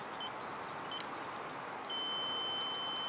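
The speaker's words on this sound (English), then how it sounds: "That's beeping, that's good." An electronic circuit tester checking an RV water heater circuit gives faint short beeps, followed by a steady high-pitched tone, heard quietly over background hiss.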